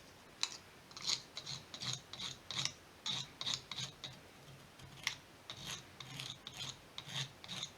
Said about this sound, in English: Just brush it, pick some of those fibers out.